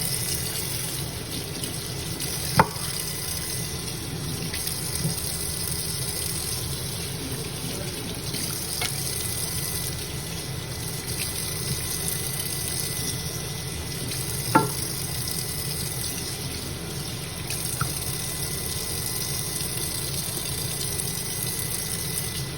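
Tap water runs steadily while something is rinsed for mole, a broad continuous hiss with a couple of sharp clinks of a pot or utensil.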